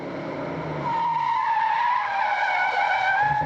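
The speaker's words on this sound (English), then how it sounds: "A squealing tire is a happy tire." Rally car tires squeal loudly around a tight hairpin on a stage rally road, a sustained high-pitched screech that builds and holds for a few seconds.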